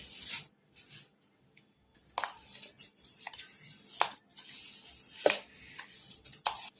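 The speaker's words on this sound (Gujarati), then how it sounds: "હવે સહેજ આપણે ખમણીને એને મિક્સરમાં એડ કરી દઈશું" Short, dry rasping strokes of frozen ice cream being grated for falooda, coming in irregular bursts with quiet pauses between.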